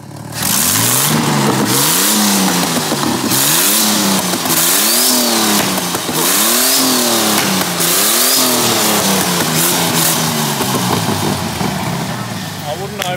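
A twin-turbo Ford AU Falcon engine revs hard and repeatedly, about six rising and falling sweeps in a loud, close sequence, with turbo whistle over the top.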